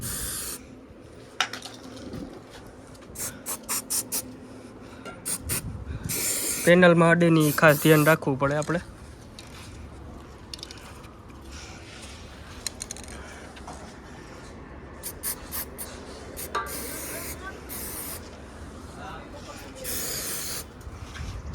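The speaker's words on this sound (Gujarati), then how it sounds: "આ છે જિંક સ્પ્રે આનાથી ટૂંકમાં કાટ ન લાગે આવી રીતના મારી દઈએ" Zinc spray hisses from a can onto a 75 kV lightning arrester in an electrical panel, with a loud burst of about two seconds mid-clip. Someone talks before and after it over steady outdoor background noise.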